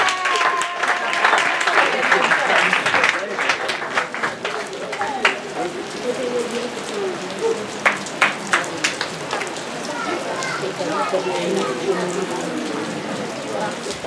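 A church congregation applauds, a dense, continuous patter of many hands clapping at close range, with voices speaking and calling out over the clapping.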